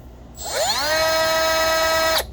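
A Milwaukee M12 Fuel 3-inch cut-off tool spins up with a rising whine, then holds a steady, loud high-pitched tone for close to two seconds before cutting off abruptly.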